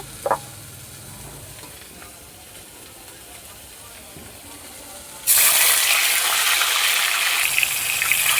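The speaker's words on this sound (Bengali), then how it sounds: "পেঁয়াজটা ভাজা হচ্ছে, এইদিকে ততক্ষণ মাছটা ভেজে নেব" Fish frying in a pan beside chopped onion for a rohu begum bahar dish, a loud broad sizzle that cuts in suddenly midway after a quieter stretch and then stays constant.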